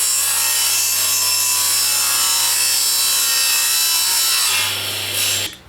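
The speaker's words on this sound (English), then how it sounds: "So now I need to cut upwards so that the cut meets in that top corner." Hand saw cutting through reclaimed wood, a loud, close, continuous rasping scrape of steady strokes that stops abruptly at the end, with no talk.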